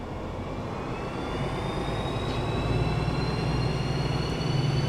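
A BR 218 diesel-hydraulic locomotive in Train Sim World 6 pulls away, its engine drone steadily building in loudness with a rising high whine over a rumbling low end, heard alone with no talk.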